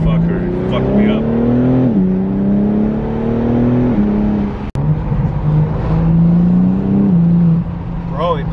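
A 2021 BMW G82 M4 accelerates hard, its engine note climbing in steady rising sweeps through several gear changes, loud and close from inside the car, with a brief dropout midway.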